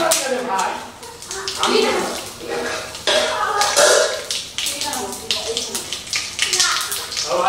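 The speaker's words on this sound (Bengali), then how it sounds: "আমরা এই তেলের মধ্যে ফোড়ন হিসাবে দিয়ে দেব একটু গোটা সর্ষে, তার সঙ্গে 2টো তেজপাতা" Whole mustard seeds and two bay leaves are dropped into hot oil while cooking mustard-poppy chicken, giving bursts of hissing, crackling sizzle that rise and fall, with a person talking throughout.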